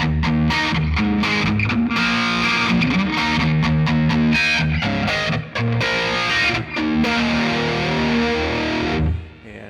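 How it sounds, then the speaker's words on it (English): Heavily distorted electric guitar through an MXR EVH117 flanger pedal, the swirling flanger effect on chords ringing loud and continuous before cutting off near the end. "But here is my default setting with some distortion."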